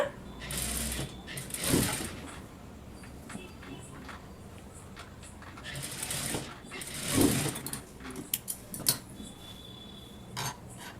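A sewing machine stitches the side seam of a blouse in two short bursts, one early and one later, each separated by quieter stretches of light handling noise.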